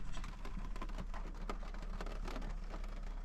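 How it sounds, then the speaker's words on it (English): Steady rain patters on and around a camper van, a dense, continuous hiss with scattered sharper drops, close and fairly quiet, with no one talking. "now it's raining again."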